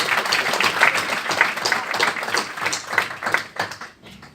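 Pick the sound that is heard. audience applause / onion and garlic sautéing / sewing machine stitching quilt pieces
audience applause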